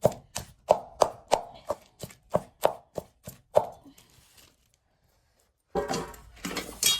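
Onion and garlic being crushed in a kadhai: rhythmic pounding, about a dozen sharp thuds in steady succession, followed by silence and then a burst of rough scraping.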